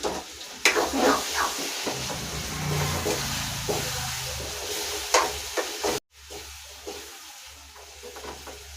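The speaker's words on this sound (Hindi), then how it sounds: "नमक, कस्तूरी मेथी सब डाल दिए हैं। थोड़ी अच्छे से भून लेते हैं।" Spices with salt and kasuri methi roast in a pan while a spoon stirs and scrapes in irregular bursts over a hissing sizzle. The sound cuts out abruptly partway through and returns as a quieter, fainter simmer.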